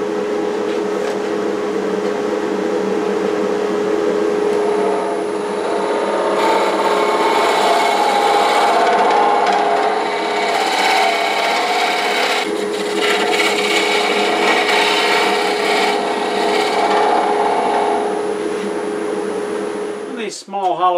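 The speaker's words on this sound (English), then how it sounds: "Turn my dust collector on." A dust collector runs steadily during woodturning of a small hollow form, a loud constant whir with scraping tool noise layered over it, continuing for about twenty seconds.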